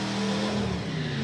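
A Chevelle drag car at Santa Pod powering down the strip, a loud, sustained engine roar with a steady harmonic tone that bends slightly in pitch over about a second, close and unbroken.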